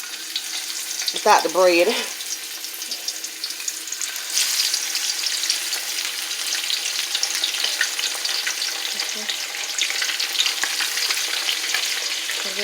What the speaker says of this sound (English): So I'm going to go ahead and drop my chicken.